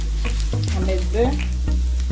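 Potatoes frying in butter in a pan, a steady close sizzle with stirring scrapes and clinks throughout.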